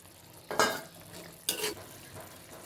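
Spices with cumin powder and salt being stir-fried in a pan, heard as two short bursts of scraping and sizzling from the stirring, close and fairly faint, with a low quiet hiss between them and no talk.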